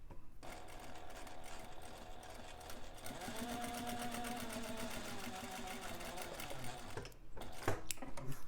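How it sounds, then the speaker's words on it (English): A sewing machine runs a long basting stitch along a bag's interior slip pocket, a steady fast mechanical chatter that holds nearly continuously at close range, with a brief pause and restart near the end. "I'll do a basting stitch and save my thread."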